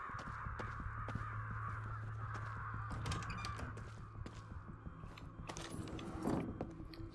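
Several crows caw in rapid, overlapping bursts in the video game Ghostwire Tokyo, set against a constant humming game backdrop, with a louder mechanical rattle near the end and no voices.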